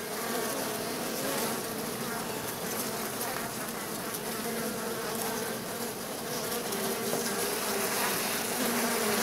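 Loud, busy buzzing of a swarm of honey bees close by, sustained throughout with slight swells in intensity.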